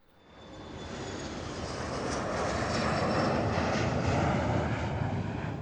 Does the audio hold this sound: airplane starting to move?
yes